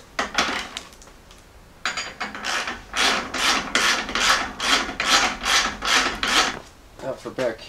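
A hand ratchet tightens a nut on a lift bolt of a 1978 Jeep J10 during a 3-inch lift install, giving a close run of about a dozen rhythmic rasping clicks.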